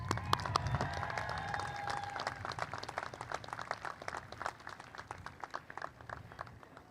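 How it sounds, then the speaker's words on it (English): An audience at a 2025 commencement ceremony applauds at a steady level, a dense run of many hands clapping with some murmur and cheering, and a few louder claps early on. "Let's cheer again for the first group."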